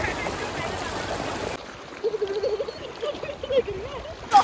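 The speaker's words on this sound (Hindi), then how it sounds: "आई लव दिस साउंड यार, ऐसा लग रहा है कि मेरी सारी प्रॉब्लम इस नदी के साथ बह रही है" A river in Rishikesh rushes steadily for a moment, then quiets while a person talks over faint flowing water.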